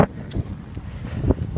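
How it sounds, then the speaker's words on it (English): Wind gusting at a seaside park on the Santa Barbara shoreline, a low continuous rumble against the microphone with a few stronger buffets, heard alone for a brief moment. "See, it's even getting windy."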